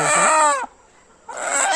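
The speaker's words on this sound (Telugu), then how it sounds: "కోడి చూడండి నాటు కోడి" A native country chicken at a poultry farm gives a loud, close, strained call, pauses for a brief silent gap, then calls again.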